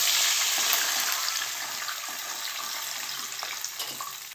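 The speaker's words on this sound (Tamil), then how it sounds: "ஒரு டம்ளர் தண்ணி விட்டுங்க." A tumbler of water poured into a hot pan of ghee-fried cashews and spices, a loud rushing hiss and sizzle that slowly settles into steady bubbling with faint clinks.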